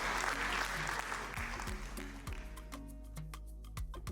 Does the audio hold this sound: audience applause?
yes